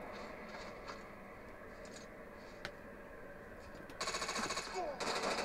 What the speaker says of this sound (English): He shot Toktek in the back of the back a little bit